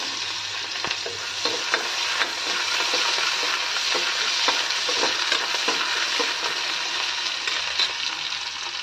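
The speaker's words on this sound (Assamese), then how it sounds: "এইফালে মই পিঁয়াজ জলকীয়াখিনি ফাৰ্ষ্টতে দি লৈছোঁ" Sliced onion and green chilies hit a hot wok and fry with a bright, steady sizzle, close and even throughout, with faint scattered crackles and no voices.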